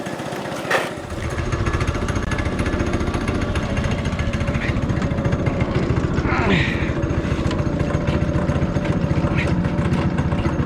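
The small engine of a Manco Havoc M5 go-kart drones loudly and steadily during a ride, close up with a constant rapid rattling throb and some wind rush.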